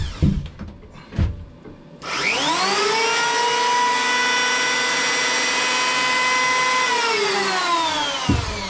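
Electric hand planer powered from a generator through an extension board at a small ice shack build, spinning up after a few knocks and then running loud and steady for about five seconds before winding down, with no talk.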